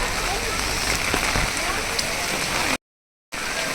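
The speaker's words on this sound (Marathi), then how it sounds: "बघा हा पाऊस किती आहे" Heavy monsoon rain pours down at the Jyotiba temple near Kolhapur. It makes a loud, dense, unbroken hiss close by, with a brief dropout near the end.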